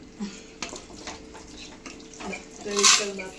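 Spoon stirring a thick pot of biryani, scraping and clinking against the metal pot in uneven strokes, close and moderately loud, with brief bursts of talk in between.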